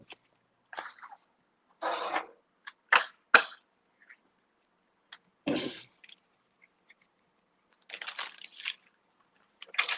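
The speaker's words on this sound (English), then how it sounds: "y'all hear me opening the cards" Trading card packs are torn open by hand, giving bursts of crinkly foil and paper ripping and rustling, close and intermittent, separated by silent pauses.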